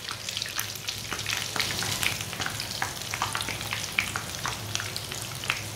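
Kebabs fry in a pan, browned on both sides, giving a soft, steady crackling sizzle with scattered pops at a moderate distance and no talk.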